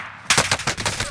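Heavy gunfire in a video game: a rapid, loud burst of repeated shots rattles on for about a second after a brief quiet lead-in.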